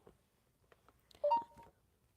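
A Bixby voice assistant answers a timer request with a short electronic two-tone beep. The beep is clear but brief and stands against a quiet room with a few faint knocks.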